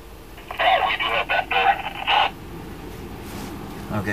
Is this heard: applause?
no